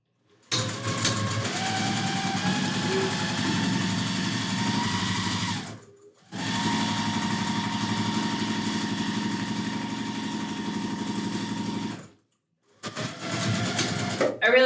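A sewing machine runs at high speed while quilt blocks are stitched, a steady loud mechanical whir in two long runs with brief pauses between and a restart near the end, no talking over it.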